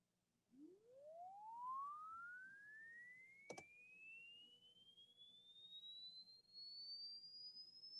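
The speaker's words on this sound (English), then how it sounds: "that's a sine wave" A pure electronic sine wave test tone sweeps steadily upward in pitch over several seconds, played on a laptop, with a brief click midway and a faint low hum underneath.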